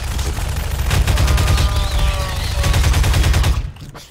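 Sustained rapid gunfire in the Garry's Mod horror mode HUNT, a continuous loud clatter of shots with a faint tonal whine running through it, cutting off near the end.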